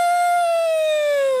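A person's voice imitating a siren, holding one loud, clear, pure wail that slides slowly downward in pitch over about a second and a half, heard alone.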